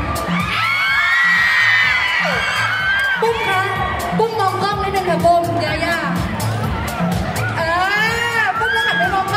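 An excited crowd of fans, including children, screams, shouts and cheers loudly throughout during a game segment at a mall fan event, with an announcer talking over the noise.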